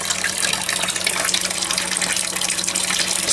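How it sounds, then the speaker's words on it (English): Warm water from a house supply pours steadily into an aquaponics fish tank made from a converted recycling bin, a loud, continuous splashing gush with no talking. "Just filling it up now is the painstakingly slow part. Got some water coming from the house."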